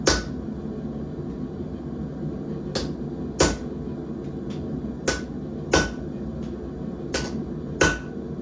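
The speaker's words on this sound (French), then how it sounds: "Je tape un petit peu à l'arrière pour voir où est l'empreinte du truc." A hammer taps hot steel at a forge: seven sharp, ringing metallic strikes at irregular intervals, loud and close over a low background rumble, with no talking.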